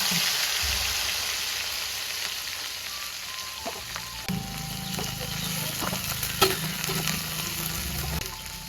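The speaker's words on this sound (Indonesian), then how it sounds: "Terinya digoreng." Steady crackling sizzle of anchovies frying in hot oil, close and continuous, with occasional clinks of a utensil stirring.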